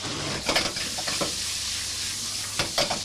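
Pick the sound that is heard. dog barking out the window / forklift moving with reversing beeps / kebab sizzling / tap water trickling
kebab sizzling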